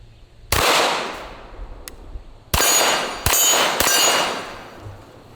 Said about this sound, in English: I'm gonna go ahead and shoot it with a 9mm